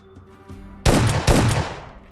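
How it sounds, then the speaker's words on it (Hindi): Automatic gunfire in PUBG Mobile Lite during a fight near a bridge, two loud close bursts of rapid shots cutting in after near silence. "अब यहाँ पर मुझे गन फाइट के साउंड आए"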